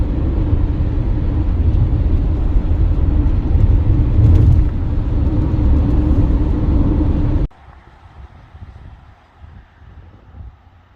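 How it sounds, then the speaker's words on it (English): A car driving through the Ponderosa pines of Boise National Forest in Idaho, with a loud steady road rumble and wind roar inside the cabin that drops abruptly to a quiet hum near the end. "I've been driving through all these amazing Ponderosa pines"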